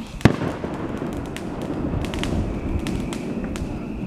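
Fireworks bang and crackle at a 4th of July celebration, opening with one sharp nearby burst and then a steady stream of distant pops and crackles layered over a continuous low rumble.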